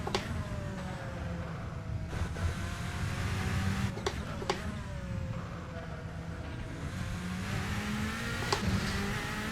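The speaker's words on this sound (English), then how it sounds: "The car, as you can probably judge from yourselves, the car sounds absolutely amazing. Love the raspy, throaty sound." A race car from a classic endurance racing era in Assetto Corsa revs hard on track with a raspy, throaty engine note, pitch climbing and dropping through gear shifts under steady road noise.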